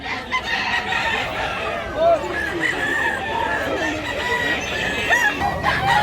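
Roosters crow repeatedly at a fighting-cock market in Mantalungon, Barili, Cebu, their calls rising over a busy crowd with people talking throughout.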